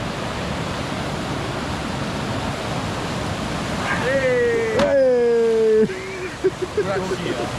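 Rushing water at Toparlar waterfall in Köyceğiz, a constant loud broadband roar filling the scene, with a person's voice briefly rising over it partway through.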